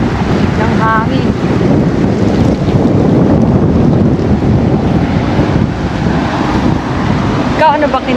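Strong wind blows in an outdoor park, roaring steadily across the microphone for the whole stretch, with brief voices faintly heard under it.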